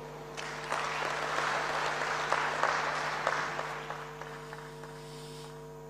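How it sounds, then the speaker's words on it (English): Audience applause at an African trade conference for women and youth, steady broadband clapping filling the room for several seconds over a constant mains hum, tapering toward the end. "Another round of applause for Mr. Secretary General"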